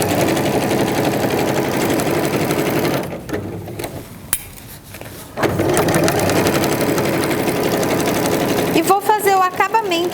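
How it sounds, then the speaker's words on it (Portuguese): A sewing machine stitches around a clear crystal plastic organizer bag, its close, loud motor hum running steadily, pausing briefly in the middle, then resuming before ending with a few uneven bursts. "Posso costurar a volta toda prendendo."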